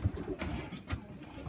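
Young birds, likely pigeons or doves, give soft low cooing calls close by, a couple of brief murmuring phrases over a quiet background.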